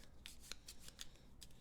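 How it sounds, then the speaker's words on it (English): Battlestar Galactica board game Destiny deck cards being shuffled up close, soft papery riffles and brief slaps in quick irregular succession over a quiet background. "we're going to shuffle these up, and we're going to place them in the Destiny deck."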